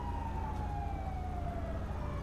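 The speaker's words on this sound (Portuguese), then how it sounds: "Tem viatura chegando." A police siren in a video game, Grand Theft Auto V Online, wails steadily in the distance, its tone slowly sliding down, over a constant low engine-like rumble.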